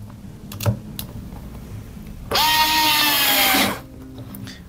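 Bosch Go cordless screwdriver driving a screw into wood, a loud steady motor whine lasting about a second and a half that winds down, with light handling clicks before and after.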